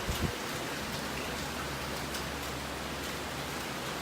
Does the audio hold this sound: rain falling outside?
yes